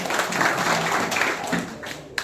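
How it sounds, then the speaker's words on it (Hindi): A crowd claps at a village political gathering in Sabhapur, with a steady wash of hand claps lasting about two seconds before tapering off, amid low background chatter. "और इनके लिए एक बार जोरदार ताली लगाई जाए"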